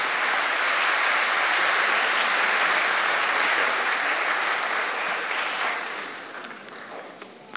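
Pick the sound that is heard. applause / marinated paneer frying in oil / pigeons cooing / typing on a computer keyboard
applause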